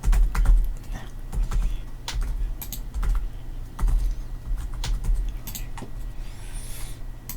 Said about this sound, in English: I'm just going to type in anything that I